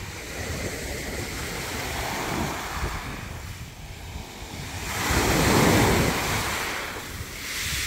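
Sea water washing at a bay on the Izmir coast near Karaburun, Mordoğan and Urla, with rushing surf swelling and fading and gusts of wind buffeting the microphone.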